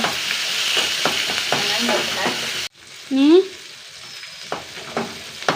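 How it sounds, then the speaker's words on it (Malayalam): Curry leaves crackle and sizzle in hot oil, a close spattering fry with stirring, then a sudden sharp hiss and brief squeal as the sizzling continues more quietly. "കറിവേപ്പില നന്നായി ഒന്ന് മൂപ്പിക്കട്ടെ അല്ലേ"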